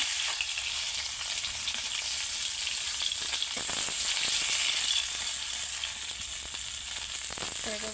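Kalibaus fish frying in oil in a pan, producing a steady, close crackling sizzle with a few brief clatters and scrapes.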